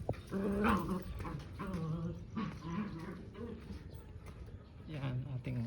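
Pet dogs playfully wrestling: close, throaty growls and snarls with a few whimpering whines, rising and falling without pause across the scuffle.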